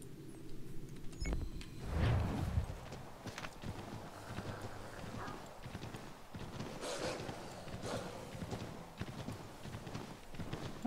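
Rhythmic hoofbeats of a horse galloping at speed in Assassin's Creed 3, steady clip-clop thudding throughout with some wind and ambient rumble.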